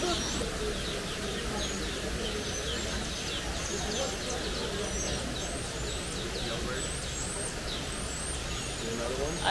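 Birds chirp and call repeatedly in the open air of a zoo-like animal park, close by, over a steady, loud hum of crowd chatter and ambient noise.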